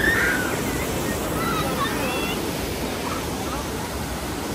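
Pinlac Falls, swollen into a strong current after heavy rain, pours with a steady broad rushing roar, mixed with gusts of wind noise against the microphone.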